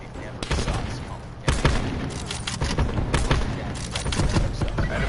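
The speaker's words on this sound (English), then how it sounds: "The silence at first, then the roar of gunfire." Heavy gunfire in a video game, dense rapid bursts and booms layered over a constant roar, loud and close, with voices mixed in.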